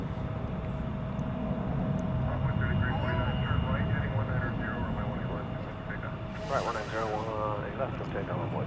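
A Qantas Boeing Dreamliner jet at DFW Airport, heard as a steady broad engine roar from moderate distance that swells and shifts toward the end, with a person talking over it throughout.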